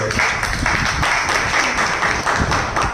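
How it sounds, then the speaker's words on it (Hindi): Audience applause in honour of someone at a motivational talk, a dense, steady patter of many hands clapping at once from nearby for about three seconds, with no one speaking over it. "एक बार उनके सम्मान में शानदार ताली हो।"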